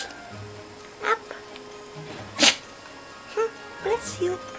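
A corgi puppy gives a sharp little sneeze amid quick snuffles and small yips, close by, with a person talking and cooing to it throughout at an indoor Canada Day celebration.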